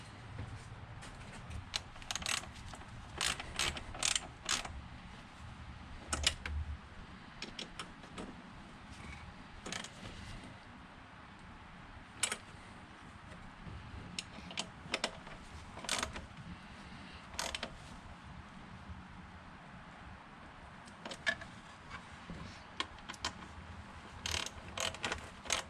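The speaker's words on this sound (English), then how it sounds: "then the next step is to start tightening with the driver" Ratcheting driver tightening fittings on an aluminum part, producing irregular bursts of sharp metallic clicks and creaks throughout, fairly close and with no talking.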